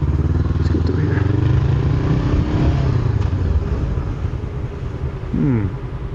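Honda CBR 500R motorcycle riding along with a loud, steady engine drone whose pitch climbs and drops as the rider shifts gears, with a sharp rev rise near the end; a voice is faintly audible.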